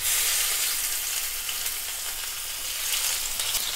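Finely chopped garlic dropped into smoking-hot oil for a soy chilli sauce, giving a steady, loud, close sizzle and crackle with no voices.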